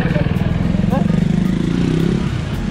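A motorcycle engine drones close by with a steady, pulsing rumble, staying loud throughout while people talk over it.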